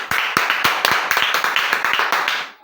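A church congregation claps for the Lord in steady rhythmic beats, loud and close, with a voice carrying over the clapping.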